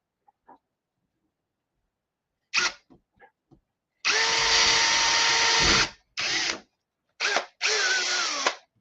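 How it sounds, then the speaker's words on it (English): A power drill bores through the shoulder of a pumpkin head figure, opening with a few short clicks and blips, then a long loud whirring run and several shorter bursts close by. "Let's see if I can get around the wire and drill a hole through the shoulder."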